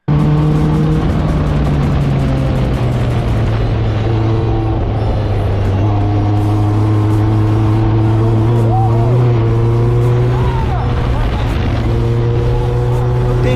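A Formula 1 race car engine drones loud and close, its pitch slowly falling and then rising again as the car drives on, with a voice speaking over it.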